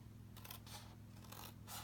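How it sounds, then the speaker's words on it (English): Scissors cut through card for a handmade note card box in a few quick, quiet snips, close to the mic over a low background hum. "I could do with some longer scissors really"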